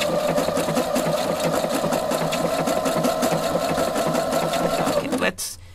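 A Husqvarna Viking sewing machine stitches with a Spanish hemstitch foot, its loud, fast needle clatter and motor whir running close and steady before stopping abruptly near the end, followed by a quiet pause.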